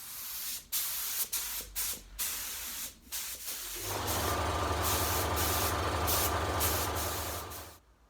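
Red paint is sprayed onto the axle casing of a 1973 Foden S80 lorry, with short hissing bursts first, then one long continuous spray hiss backed by a compressor hum.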